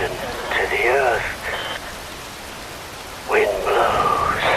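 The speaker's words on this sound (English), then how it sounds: "Wind blows, rain falls." Rain falling in Metal Gear Rising: Revengeance, a steady hiss of rainfall under a voice that speaks in two stretches, with the rain continuing alone in between.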